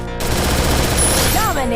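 MP40 submachine gun fire in the mobile shooter Free Fire, a dense rapid burst of close, loud shots lasting over a second, with a brief game effect chirp near the end.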